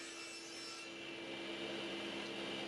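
A table saw rips runner blanks from Baltic birch plywood with a faint, steady whine and a soft cutting hiss. It is quiet and continuous, with no talk.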